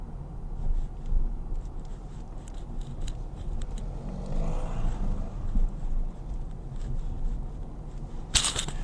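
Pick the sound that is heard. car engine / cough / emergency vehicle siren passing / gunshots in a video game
car engine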